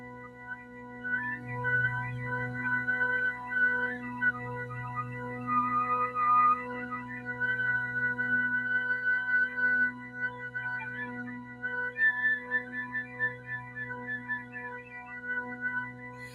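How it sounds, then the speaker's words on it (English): Soft flute whistle tones fingered on low D natural, thin high pure pitches drifting and shifting between harmonics over a sustained low drone, across two long breaths with no talking. "So I'm going to put my fingers on the low D natural and see if I can get out some of these whistle tones."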